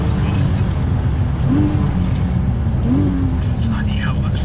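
Porsche 911 Turbo S (992) with a twin-turbo flat-six and all-wheel drive accelerating hard on track, a loud sustained engine roar with rising pitch sweeps as it pulls through gears, with a voice talking over it.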